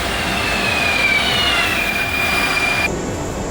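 Rodalies commuter train at a railway station, a steady loud rumbling roar with a thin high metallic wheel squeal running through it, then a sudden shift in tone near the end.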